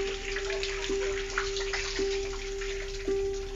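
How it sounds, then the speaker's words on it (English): Water from a shower in the bathroom upstairs leaks through the ceiling into the flat below, a steady splattering trickle with drips landing about once a second, close and continuous with no voices. "Miriam and Demetrius have recorded what happens when someone has a shower in the bathroom above them."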